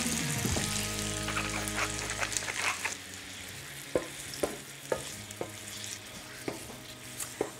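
Fruit rolls in sizzling butter with honey in a frying pan, a steady close hiss at first, then a series of sharp, evenly spaced taps and scrapes as it is stirred, with no voices.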